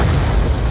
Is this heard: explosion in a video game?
yes